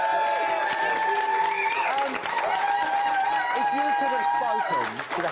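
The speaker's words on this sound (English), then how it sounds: "Give her a round of applause." Studio audience applause at a live celebrity reality TV show studio, loud and continuous for several seconds with cheering and voices over it.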